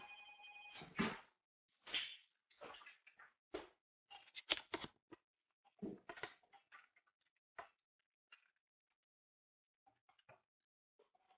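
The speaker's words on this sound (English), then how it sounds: "I had a phone that I thought was off and it was going on" A telephone ringing during an indoor presentation, sounding as short repeated bursts of ringing separated by brief gaps, fairly faint and alone, thinning out toward the end.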